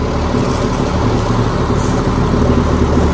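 Loud, close rumble of a sand delivery truck engine while reversing, a steady droning idle with no pauses.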